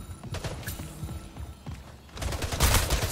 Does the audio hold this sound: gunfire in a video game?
yes